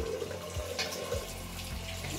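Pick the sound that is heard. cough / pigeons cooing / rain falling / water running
water running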